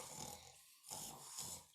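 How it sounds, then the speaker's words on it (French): A creature naps with children at nap time and snores, slow rhythmic rasping breaths rising and falling in three or four cycles, quiet and close with no talking. "t'entends comme il ronfle."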